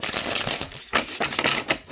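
Quick riffling and flapping of tarot cards being shuffled, a few rapid bursts in close succession, near and crisp.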